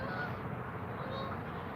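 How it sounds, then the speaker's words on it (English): Geese honk overhead outdoors near a trout fishing spot, a few faint overlapping calls over a constant broadband wash of wind or water noise. "Comes the geese."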